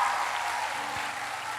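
A church congregation applauding, dense steady clapping from a crowd that holds at an even level for the whole moment, with no voices above it.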